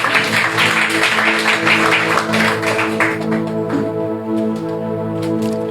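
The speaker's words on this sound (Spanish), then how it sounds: "así que démosle un aplauso al Señor" A church congregation applauds in a dense, steady patter of clapping that fades slightly toward the end, with a sustained musical tone running underneath.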